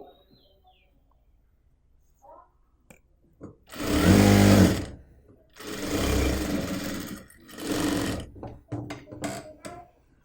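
A sewing machine stitches a folded half-inch hem on kurti fabric in three loud, close bursts of steady whirring, separated by short pauses and followed by softer clicks and handling noises.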